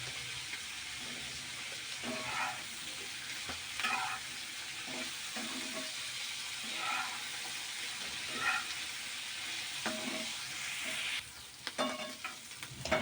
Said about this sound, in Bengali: সুন্দর করে ভেজে নেব এগুলো।